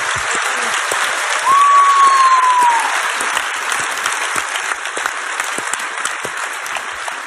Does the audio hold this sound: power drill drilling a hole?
no